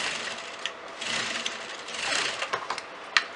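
A sewing machine stitches pleated fabric onto a kameez top in short, quiet runs of rapid mechanical clatter with faint handling noises between them.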